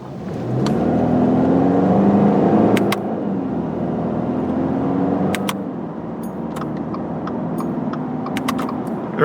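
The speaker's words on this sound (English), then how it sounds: "This time we'll do a launch from the manual mode and sport mode." 2022 Subaru Impreza Premium hatchback with a CVT launching hard in sport mode, heard from inside the cabin: the engine note surges and holds steady under strong acceleration, with a rising whir and a few faint clicks, and no talk.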